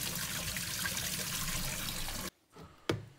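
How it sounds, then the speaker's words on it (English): Tap water runs steadily into a container for washing a part of a Commodore PC 20, a continuous close trickle that stops abruptly, followed by a brief clunk. "So here I'm just filling it up with some water and just a tiny bit of"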